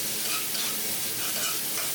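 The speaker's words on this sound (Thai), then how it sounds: "ผัดต่อด้วยไฟแรงๆนะครับเอาแค่กุ้งพอสุกก็พอครับ" Shrimp stir-fry in chili paste over high heat for a spicy winged bean dish, hissing in a loud, continuous sizzle with stirring and no voices.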